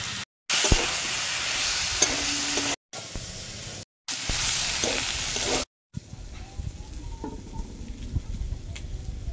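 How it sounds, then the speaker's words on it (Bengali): Potatoes and Malabar spinach sautéed with torn chilli, salt and turmeric over a clay stove, a loud steady sizzle broken by short cuts and then a quieter, lower frying hiss with small stirring knocks. "লঙ্কা ছেড়া, লবণ আর হলুদ দিয়ে আলু পুঁই শাকটা কষিয়ে নেব"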